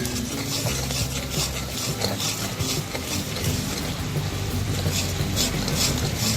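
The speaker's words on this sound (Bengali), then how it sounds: "সেটা মিক্সও হয়ে যাচ্ছে আর ভাজাও হচ্ছে" Dried fish is being stirred and fried in a pan, giving a continuous sizzle with repeated scraping and clinking of the spatula against the metal, close and fairly loud.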